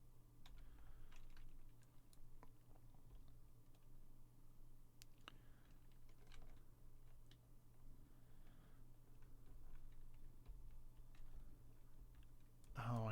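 A pet named Snookum pressing computer keyboard keys, a faint scatter of soft irregular clicks and taps over a low steady hum, with someone talking quietly.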